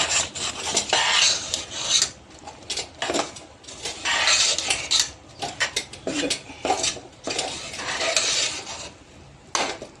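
A cup of wheat flour is stirred into a hot mixture in a pan, a utensil rasping and scraping against the metal in repeated bursts with short pauses, close and moderately loud.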